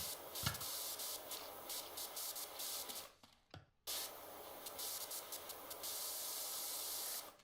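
Steady pressure-washer water spray from PowerWash Simulator 2, a continuous loud hiss that cuts out briefly near the middle and then resumes at full strength.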